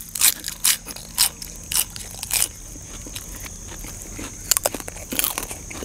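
Crispy pork gets bitten and chewed up close outdoors in a rice field, with loud sharp crunches arriving in a steady rhythm of separate bites, then softer, quicker crackling chews.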